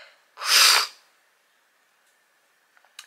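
A single loud, close sneeze bursts out in a quiet room, a sharp breathy blast lasting about half a second, followed by near silence and faint small movements.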